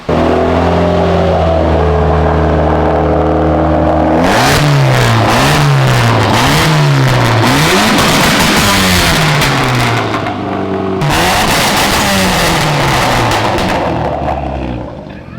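A loud engine in a Volkswagen swapped with a BMW engine idles roughly, then revs hard and bounces repeatedly against the rev limiter in stuttering bursts, dips briefly, then screams again.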